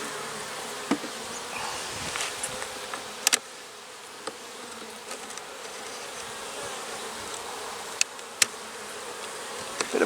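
Honey bees hum steadily from an opened hive with honey supers and burr comb, a close, continuous buzz with occasional louder passes as individual bees fly near.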